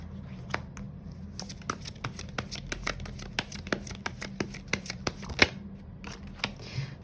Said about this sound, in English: I just want to grab one more card